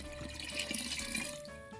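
Water from a riverside being poured into a pot for cooking rice porridge, a close, steady gurgling pour that thins out toward the end.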